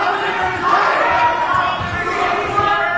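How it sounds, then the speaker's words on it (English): Restless crowd at an independent wrestling show, a broad, steady wash of voices sustained for several seconds with no single call standing out, loud and close. "The crowd's not happy right now."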